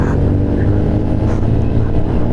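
A motorcycle running with no muffler throbs loudly and steadily, a raw, close exhaust rumble that fills the whole moment without voices.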